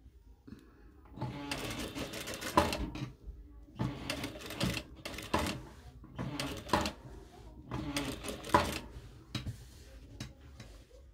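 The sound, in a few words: sewing machine stitching a garment facing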